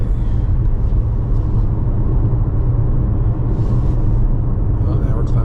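Compact SUV climbing an 8% mountain grade on a winding road, a loud steady low engine and road rumble throughout, with a voice heard briefly over it.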